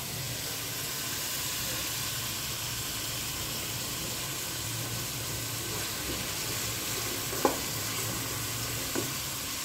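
Chicken pieces frying golden brown in a pan for tinola, a steady dense sizzle that holds evenly throughout, with a couple of faint utensil clicks near the end and no talking.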